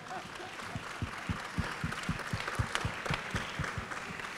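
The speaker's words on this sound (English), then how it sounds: "A big round of applause." Steady applause from an audience, dense clapping with a few louder claps standing out, sustained throughout without a break.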